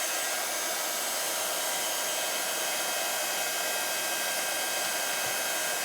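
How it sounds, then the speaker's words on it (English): An embossing heat tool blows steadily as it warms up. Its even, hair-dryer-like whoosh of air is continuous and fairly close, with no talking over it. "you want an embossing heat tool"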